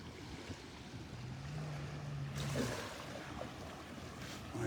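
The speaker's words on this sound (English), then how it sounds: "I hear the boats trying to get off the sandbar behind me." Boat motors labor to pull off a sandbar behind Delnor-Wiggins beach, a distant low drone that rises and falls beneath steady surf and wind.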